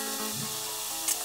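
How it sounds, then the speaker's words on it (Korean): King oyster mushrooms simmering in a soy sauce glaze with garlic give a brief, close, steady sizzle and bubbling, with a soft scrape near the end. "노릇하게 잘 구워진 버섯에 붓고 끓여줍니다"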